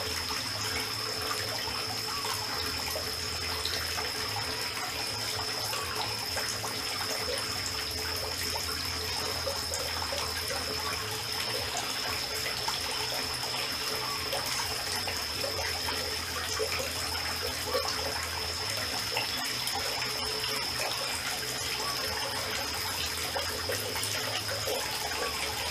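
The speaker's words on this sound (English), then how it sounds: "now I can go turn off the water" Water runs steadily from a tap indoors, a continuous close hiss and trickle that stays even throughout with no voices over it.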